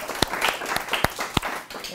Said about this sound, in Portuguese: vamos agradecer a professora Denise com uma salva de palmas.